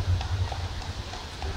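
Police horses of a mounted police unit clopping along, their hooves giving soft, uneven low thuds at moderate distance over a murmuring background.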